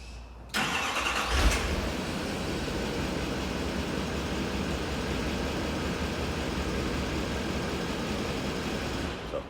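A 2012 Chevy 3500 diesel engine cranks and fires up by remote start with a sharp catch, then settles into a steady, loud, rattling idle that runs unbroken until it cuts off near the end.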